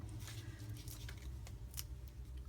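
Scotch Titanium Non-Stick scissors snip paper in short, crisp strokes during scrapbook crafting, close and fairly quiet over a steady low background hum.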